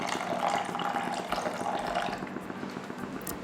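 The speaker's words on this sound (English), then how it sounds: "we need to add water" Water pouring into a thick paneer butter masala gravy to thin it, a steady running splash and trickle heard up close for several seconds, easing slightly near the end.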